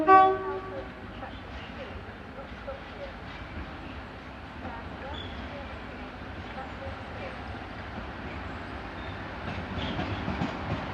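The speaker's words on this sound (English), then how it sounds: "it's a Network Rail stone blower" A Network Rail stone blower train passes at Tonbridge on the South Eastern Main Line, opening with a short horn toot, then a long rumble and rattle of wagons rolling by, with talk over it.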